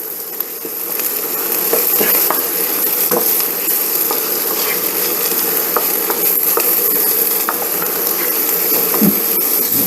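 Ginger sautés in a pan while cooking chicken tikka masala, giving a loud, continuous sizzle with frequent stirring clicks and scrapes running through the whole stretch, close up and with no talking.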